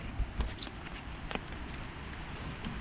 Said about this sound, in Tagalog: Lakas ng ulan ah.